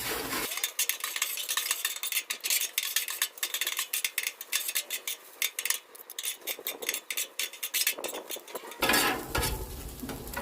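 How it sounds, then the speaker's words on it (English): Eggs being scrambled into hot chorizo in a pan, with a utensil scraping and clattering steadily against the metal over a faint sizzle for about ten seconds. "I'm using 6 eggs. And you want to just get them scrambled up in there."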